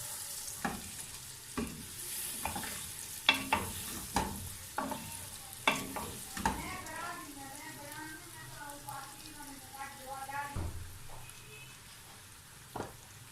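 Goat trotters (paya) frying with spices in a pot, a steady low sizzle broken by repeated sharp knocks and scrapes of a stirring spoon, moderately close.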